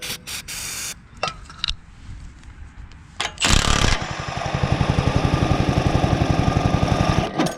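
A minibike factory engine with a broken crank is pulled over, giving a few clanks and rattles and then a loud rough burst. A fast, even mechanical chugging follows and runs to the end.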